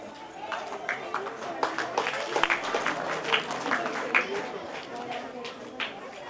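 An audience at a school parents' event claps in a moderately loud, uneven patter of many hands, with voices and chatter mixed in throughout.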